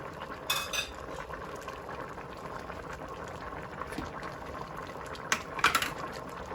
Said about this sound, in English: So now I'm going to add the coconut milk to this pot.